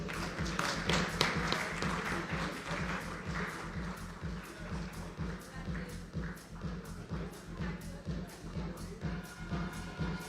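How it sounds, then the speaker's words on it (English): An audience at a creativity awards ceremony in Mumbai applauds award winners, a steady wash of many hands clapping evenly throughout, with a voice talking over it. "Ladies and gentlemen, keep the applause going."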